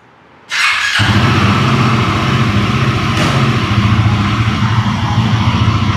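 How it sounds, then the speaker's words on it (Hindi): A Royal Enfield Guerrilla 450 motorcycle engine fires up after a brief quiet moment, then runs steadily and loudly up close in first gear with the rear wheel spinning, a low throbbing pulse continuing throughout with no talking. "अब चलाने से पहले इसको थोड़ी देर फर्स्ट गियर पे व्हील स्पिन करेंगे"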